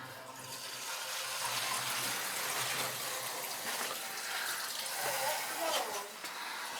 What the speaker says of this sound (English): Alright, go ahead, flush it.